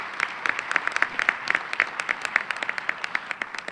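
Audience applause during a State of the Schools address, fairly close clapping with distinct individual claps standing out over a thinner crowd, tapering off toward the end.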